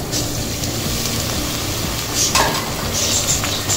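Chopped tomatoes hitting sautéed onions in a pan for a simple tomato gravy, a continuous close sizzle and bubbling with faint clinks of utensil, no talk.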